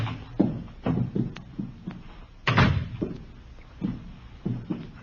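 A door opening in an old radio police drama, heard as a series of dull wooden thumps and knocks with one louder, fuller thud midway, close and fairly quiet, with no talk over it.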